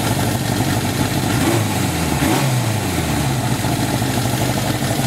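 A motorcycle engine with a newly changed exhaust idles steadily and close by, with a brief blip of revs in the middle before it settles back to a rough, even rumble, no talking.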